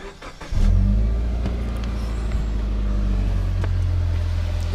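A Subaru Liberty (Legacy) GT engine cranks and catches about half a second in, settling into a loud, steady close-up idle with a deep low rumble that holds unchanged to the end.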